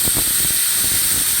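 A pressure cooker on a stove releasing steam after its fourth whistle while cooking Kerala-style black chickpea curry, a loud steady hiss that fills the whole clip with a few faint knocks underneath.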